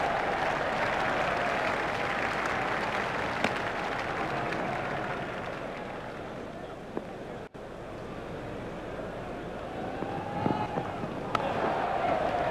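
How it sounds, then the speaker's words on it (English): A cricket crowd at an England versus Australia one-day international at Lord's gives a long, steady round of applause, broad and continuous, with a few sharp knocks and some wind rumble underneath. "Crowd are giving him a great round of applause"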